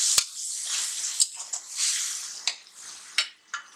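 Chopped tomatoes, two to three of them, being stirred in a pan for spinach and potato sabzi, giving intermittent scraping clinks of a spoon against the pan over a soft continuous sizzle, fairly close.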